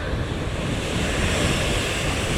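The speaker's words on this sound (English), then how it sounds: "Water comes from below and blows a hole through the rocks." Ocean surf surges against the rocky blowholes of Tongatapu, Tonga, producing a steady, loud roar of water, with wind buffeting the microphone.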